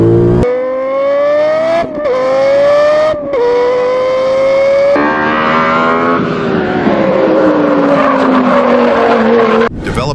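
A Lexus LFA's 4.8-liter naturally aspirated V10 screams through rising rev sweeps, loud and close, with quick gear-change breaks between pulls and a sustained high-pitched wail toward the end.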